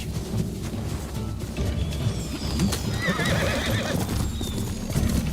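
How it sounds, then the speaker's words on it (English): Horses in Ghost of Tsushima gallop with rapid clip-clop hoofbeats and loud neighs amid battle noise, the pounding continuous and close throughout. "Everyone, get to the horses."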